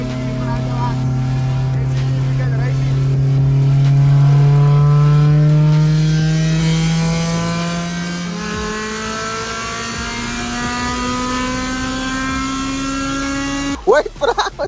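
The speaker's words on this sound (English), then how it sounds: "maybe just gonna do a few rips and just show you guys how the car sounds" K-series Honda Civic running without its exhaust tailpiece, revved hard, a loud raspy note climbing in pitch over several seconds, easing off, then revving again before an abrupt clatter at the end; no speech over it.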